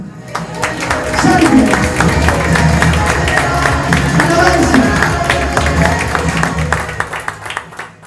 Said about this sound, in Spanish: Santo, me gusta aplaudir.